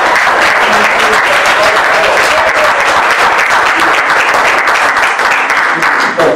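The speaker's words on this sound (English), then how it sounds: "Let's give a big round of applause." Loud, dense applause from a crowd at an NCO meeting, sustained at full strength for the whole stretch with no voices breaking through.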